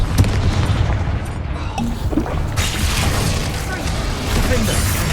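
A Confringo spell blast in the Hogwarts Legacy video game: a dense, loud booming roar that fills the whole clip, with crashing, rumbling explosive texture and no clear pauses.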